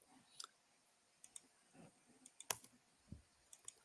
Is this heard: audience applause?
no